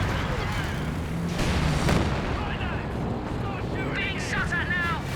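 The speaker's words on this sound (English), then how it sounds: "The mortar coming in." Incoming mortar fire in Company of Heroes 2 with booming impacts and rumbling blasts over dense battle noise, alongside a voice commentating over the chaos.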